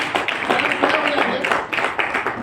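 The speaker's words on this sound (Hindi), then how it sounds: "जोरदार ताली बजाइए" An audience at a gathering bursts into loud, dense clapping on cue, a continuous wash of hands filling the room throughout.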